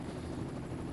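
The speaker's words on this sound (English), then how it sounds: "We've got Robert Verveen, a Belgian cameraman in the helicopter" A camera helicopter flies over a road cycling stage race in Qinghai, China, producing a steady, even rotor drone throughout with no voices.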